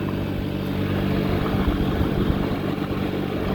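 A small red Icebear Rocket motorcycle rides along a gravel road. Its engine drones steadily under a constant wash of wind and road noise, with no voices.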